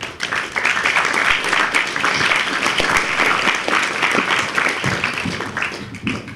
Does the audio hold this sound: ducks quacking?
no